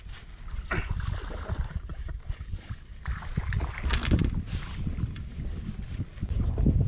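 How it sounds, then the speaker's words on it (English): Wind buffeting the microphone aboard a fishing boat on Table Rock Lake, a steady rough rumble with gusts swelling and easing throughout, no voices. "I could, till this wind started picking up."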